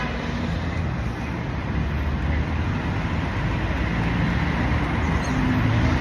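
Constant street traffic on a London road, a loud, unbroken roar of passing cars and heavier vehicles that rumbles on throughout with no gaps and no voices.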